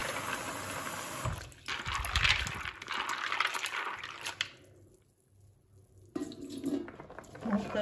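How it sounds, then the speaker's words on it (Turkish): Tap water runs into a kitchen sink while chickpeas are rinsed, a steady splashing rush that drops away near the end and then returns with brief splashes. "Şöyle nohutumuzu da hemen yıkayalım."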